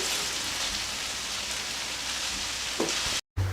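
Garlic is stir-fried in a hot pan for pad see ew, giving a dense, continuous close sizzle that sounds almost like rain, with a brief scrape of stirring near the end before a short cut to silence.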